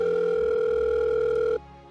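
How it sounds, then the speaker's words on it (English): A single steady electronic telephone tone sounds loud and continuous for about a second and a half, then cuts off abruptly, leaving faint background noise. "Hear that phone ring?"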